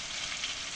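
Garlic sizzles in hot oil in a pan alongside onion, giving a brief, steady, even hiss of frying with no talk.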